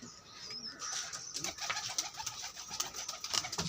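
Pigeons coo steadily nearby, soft rolling calls layered with scattered chirps and light rustling, continuous with no talking.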